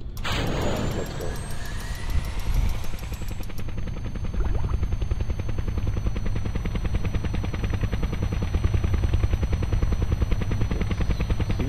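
A helicopter in the game Kerbal Space Program, with rapid, steady rotor chopping and a whining engine drone that starts up and holds loud and constant throughout.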